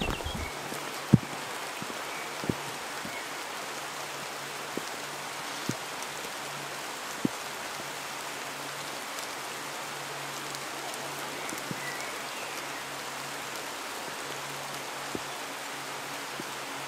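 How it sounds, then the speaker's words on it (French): Steady rain falls outdoors on a clifftop during a solo bivouac near a castle ruin, a soft, even hiss broken by scattered close drips and taps. "il pleut plus que je l'avais pensé là"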